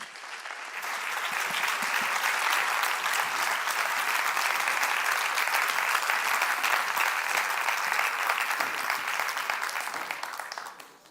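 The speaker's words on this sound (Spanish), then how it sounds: "Un aplauso, por favor, para ela." An audience at a talk event on opinionated women claps warmly and steadily after a quiet start, a dense crackle of hands that holds for about ten seconds before fading out.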